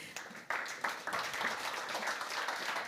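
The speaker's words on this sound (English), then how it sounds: "Let's just give him a round of applause for this presentation," Audience applause after a presentation at a conference on urban energy and heat decarbonization, fairly faint and distant, a steady patter of many hands clapping with a few sharper onsets near the start.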